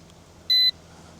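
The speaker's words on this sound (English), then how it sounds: "let's switch on the controller, same thing. You get the beep beep." One short, high-pitched electronic beep from a Ruko U11MINI drone controller sounds clearly against a quiet background, lasting about a fifth of a second.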